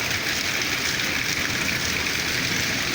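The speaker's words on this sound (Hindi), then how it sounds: "इतनी तेज़ बारिश हो रही है" Heavy rain pours down in a dense, constant roar with no pauses, loud and close, with no voices over it.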